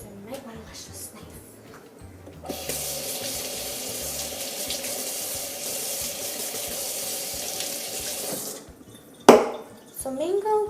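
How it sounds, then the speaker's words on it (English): A kitchen tap runs steadily for several seconds as a knife is washed in the sink, with a broadband water hiss and brief clinks of the blade near the end, close and fairly loud. "So what I'm gonna do is I might want to wash this knife."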